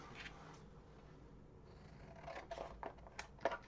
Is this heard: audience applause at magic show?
no